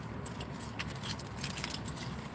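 A bunch of house keys jangling and clinking close up, a continuous metallic rattle that lasts a couple of seconds.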